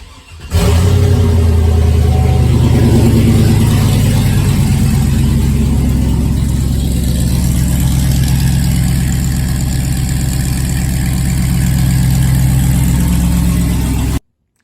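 A Chevrolet Avalanche truck with a new exhaust fires up after a short crank and settles into a deep, loud, steady idle, close to the microphone, running alone until it cuts off abruptly.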